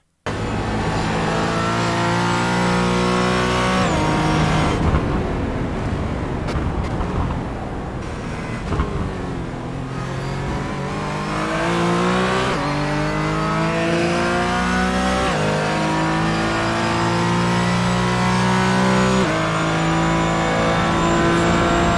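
Race car driving at VIR (Virginia International Raceway) in-race, engine roaring loud and continuous with rising and falling revs through gear changes for over twenty seconds, no voices.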